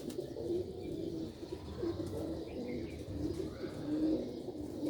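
Pigeons kept on a rooftop coo in soft repeated low calls over a murmur of background noise, several birds overlapping at moderate distance.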